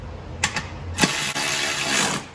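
An electric impact wrench tightens the deck pulleys on a John Deere S140 riding mower. A couple of short bursts lead into one long, loud, steady whirring run up close.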